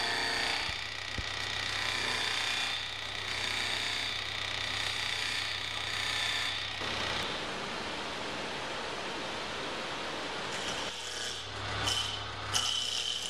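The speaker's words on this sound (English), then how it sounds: "Just using the skew chisel here to get a nice clean cut." A wood lathe turns a table leg while a skew chisel cuts it, giving a steady, loud broadband whir and hiss that runs throughout with a brief change in tone partway through.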